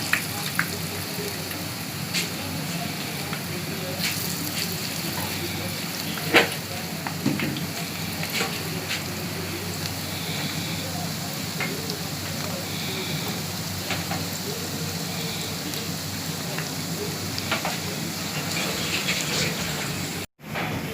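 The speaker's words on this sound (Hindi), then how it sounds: "अब हम इसके अंदर पकोड़े डालते जाएंगे। तेल गर्म हो गया" Potato, spinach and onion gram-flour pakoras frying in hot oil, giving a steady, dense sizzle and crackle that runs throughout with small pops and no talk.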